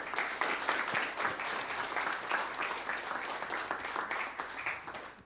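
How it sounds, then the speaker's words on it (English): Applause from an audience after a presentation at a cyber meetup, a fairly faint but steady patter of many hands clapping that swells slightly and then tapers off. "Did you hear the applause?"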